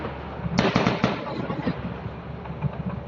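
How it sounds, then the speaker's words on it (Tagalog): Gunfire aimed at a drone crackles in a quick burst of sharp reports at a distance, fading into scattered fainter pops over a steady background hum while people murmur nearby. "Dito, narinig namin yung putok-putok dito"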